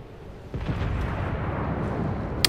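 Naval guns firing in the World of Warships video game with a fast reload, heard as a continuous dense rumble of booming shots and explosions, loud and sustained, with a sharp crack near the end.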